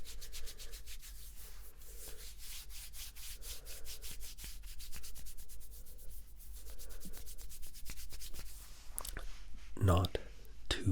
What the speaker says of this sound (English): Now let's rub this side.